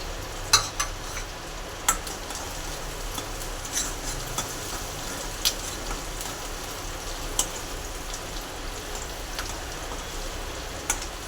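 Green chillies frying in a pan for Gujarati magnu shaak, with a steady soft sizzle under the repeated clack of a spoon stirring every second or two, close and fairly quiet.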